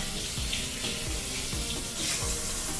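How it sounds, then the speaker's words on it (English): Hot water runs from a kitchen tap as a steady, continuous rushing splash, close and fairly loud, with no talking over it. "There we go, there's some hot water."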